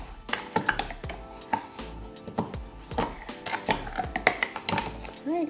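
Sugar being stirred into thick oil for a body scrub, a run of clinking, scraping spoon strokes against a bowl at close range, steady and fairly busy, with a voice talking over it.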